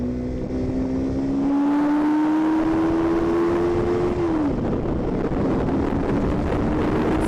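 An R250 motorcycle engine revs up, its pitch climbing and holding for a few seconds before dropping off, with strong wind buffeting the microphone throughout.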